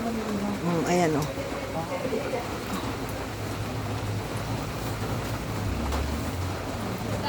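Rain falls steadily on potted garden plants in cool, wet weather, a continuous broadband hiss that fills the whole stretch, with a voice speaking briefly near the start.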